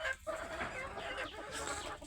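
Desi chickens clucking and chattering continuously at close range, a busy flock with overlapping calls and no talking.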